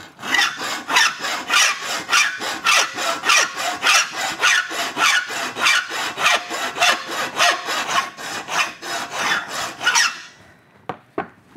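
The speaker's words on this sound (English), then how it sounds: "That's my angle of filing right now." Steel miter on a bicycle fork for a gravel bike being hand filed: about ten seconds of steady, rhythmic rasping strokes, loud and close, each push a bright scrape, ending with a few separate taps. No one speaks.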